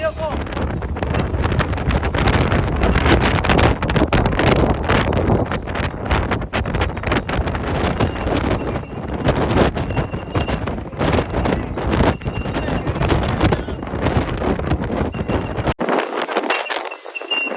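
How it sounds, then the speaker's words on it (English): Strong wind in Wellington, New Zealand buffets the microphone with loud, continuous roaring gusts that cut off abruptly near the end. "Look at the wind."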